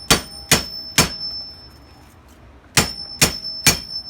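A hammer strikes the hinge pin of a 1968 Chevelle door hinge in a garage, six sharp metallic blows with a ringing tone. Three come at a quick even pace, then a short pause, then three more. The sound is loud and close, with no talk.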